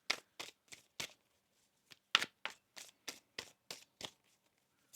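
Tarot cards being shuffled by hand, a series of quick crisp riffling bursts in an uneven rhythm with short pauses, close and fairly quiet with no talking.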